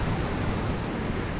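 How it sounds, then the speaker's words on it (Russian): Sea waves break on the shore at Cape Meganom in Crimea, giving a steady, broad wash of surf with a bit of wind noise and no voices. "Смотрите, как бьются волны."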